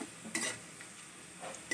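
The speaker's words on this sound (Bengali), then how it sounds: "দুটো শুকনো লঙ্কা এক চামচ কালো জিরে এবং পেঁয়াজ দিয়ে ভালো করে ভাজা ভাজা করছি" Onions fry with dried chillies and black cumin in a pan, giving a faint, quiet sizzle with a few soft stirring scrapes and utensil taps.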